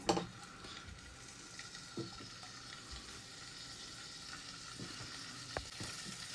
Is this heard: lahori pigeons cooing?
no